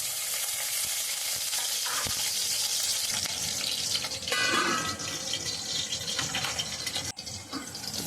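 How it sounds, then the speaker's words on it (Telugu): Green chillies dropped into hot oil in a pan for a raw banana tamarind stew, giving a steady close broadband sizzle and crackle that swells briefly midway, with no talking. "ఇప్పుడు నూనె కాగిన వెంటనే పచ్చిమిరపకాయలు వేస్తున్నాను."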